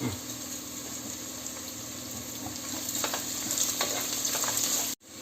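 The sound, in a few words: onions with salt frying in a pan for chicken biryani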